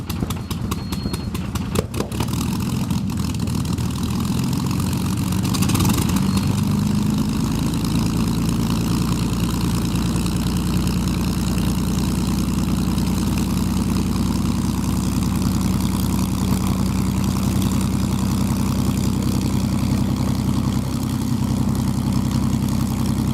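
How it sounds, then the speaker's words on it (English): An Avro Lancaster bomber's propeller engines idle with a loud, steady, low droning rumble that holds for the whole stretch, with a brief rougher burst near the start and no voices. "have a Lancaster bomber, the only one really flying that takes passengers on a ride"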